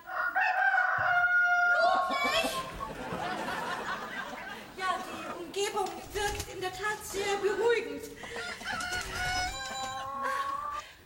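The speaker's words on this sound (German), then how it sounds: "Hör nur, Kindchen, wie der Gockel gackert." A rooster crows loudly at the start, followed by busy clucking and squawking from several chickens nearby, with a person talking over the birds.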